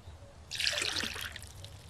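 Water trickles and splashes into buckets being filled from a pond in the survival game Mist Survival, a single burst of under a second that rises and fades over quiet ambience.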